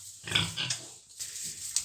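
Piglets being revaccinated squeal and grunt in a few sharp, close bursts over about two seconds, with no talking.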